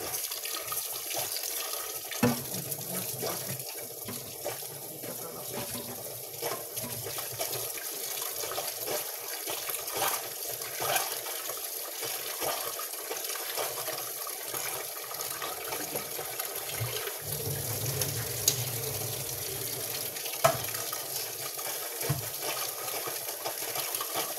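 Tap water runs in a steady, continuous rush for the whole stretch, with small splashes and clatters on top, while a person talks intermittently nearby.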